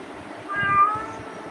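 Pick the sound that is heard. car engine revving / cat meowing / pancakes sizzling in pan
cat meowing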